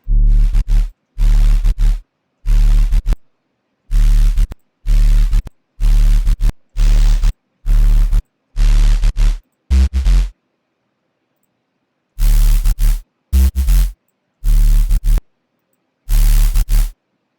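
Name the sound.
synth noise: sine wave, distortion, white noise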